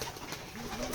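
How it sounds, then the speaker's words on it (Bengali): Pigeons coo at a pigeon farm, a soft low murmuring call heard faintly over a hissy background, with no voices. "এটা আমাদের ফার্ম হাউস কবুতরের খামার।"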